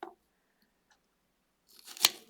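A knife slices a small cucumber in one crisp, short cut after near silence, with a faint click just before.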